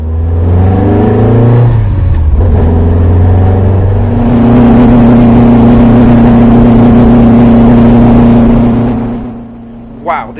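A Marcos race car at Donington runs rough while heading out for qualifying. The loud, close onboard engine drone shifts pitch early on, then settles into a steady note before dropping away near the end.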